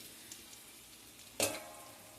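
Chicken pieces dropped into a hot pan with oil and turmeric give one sudden loud sizzling burst, which trails off into a faint hiss over quiet background.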